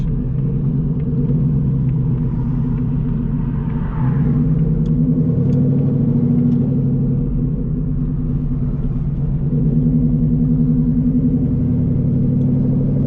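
Whipple supercharged S650 Mustang GT with its engine running, a deep steady rumble that swells slightly near the end, loud and close.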